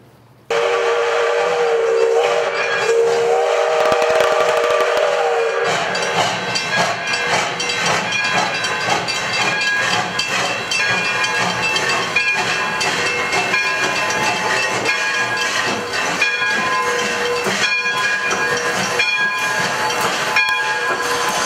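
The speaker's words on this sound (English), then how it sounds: "it's almost time for the train to get in" A train pulls into the Santa Paula depot, opening with a steam whistle and then a loud, continuous hiss of steam with clanking and rumbling that stays close throughout.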